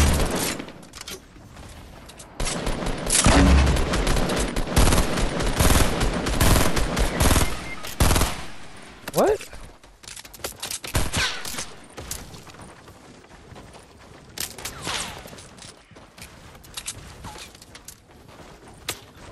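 Rapid bursts of automatic gunfire in a Fortnite squad battle, loud dense volleys in the first half giving way to sparser, scattered shots and clicks later on.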